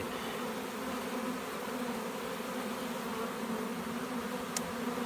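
Many honeybees buzz in a steady, dense drone around a hive inside a water meter box, close and constant, with no voices.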